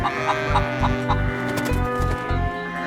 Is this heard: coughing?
no